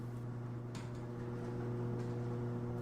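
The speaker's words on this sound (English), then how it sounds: "The garage door going up." A garage door rises as a radio drama sound effect, a steady low mechanical whirring hum that stays fairly quiet and even from start to finish.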